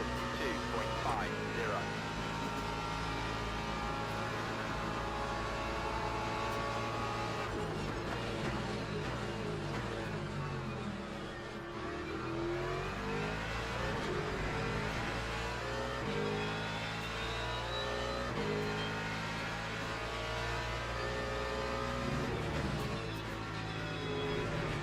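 A Porsche race car in the Le Mans Ultimate racing game holds a steady, loud engine drone down a straight, with gear shifts and pitch sweeps partway through, under continuous talk.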